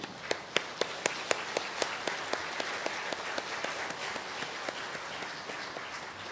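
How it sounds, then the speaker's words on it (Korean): A congregation at a Sunday church service gives warm applause to welcome returning elders, a steady patter of many hands clapping in a large room with sharp individual claps standing out, fairly soft and even throughout. "우리 일어나시면 뜨겁게 박수로 환영해 주길 바랍니다."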